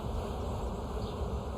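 Honey bees buzz in a dense, continuous drone as a hive frame is shaken during a summer beehive inspection, close and steady throughout with no voices.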